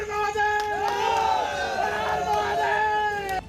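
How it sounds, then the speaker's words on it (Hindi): Many voices shouting together in loud overlapping chants, sustained and close, with rising and falling tones throughout. "उन लोगों ने चैन की सांस ली और जोर जोर से नारे लगाने लगे।"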